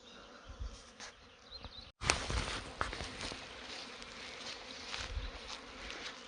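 Honey bees buzz steadily around a new hive box, a dense insect drone with a short gap early on, then a louder, busier swarm hum with faint scuffs nearby.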